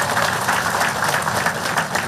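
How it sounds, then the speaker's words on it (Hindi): A large audience at a Hindu religious gathering claps steadily, a dense, loud, continuous wash of applause with no talking. "अपने लिए ताली बजाकर धन्यवाद दे दो"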